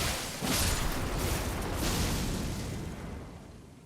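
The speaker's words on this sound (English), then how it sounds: "It says beware of explosion." Explosions in the Elden Ring video game: a broad, rumbling roar swells in after a brief lull, stays loud for a couple of seconds, then slowly fades away.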